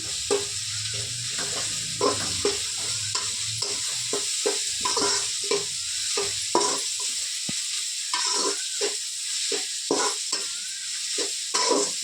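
Onions and fennel seeds sautéing in a pan for potato kurma, a steady sizzle broken by frequent scraping stir strokes throughout, close and fairly loud with no talk.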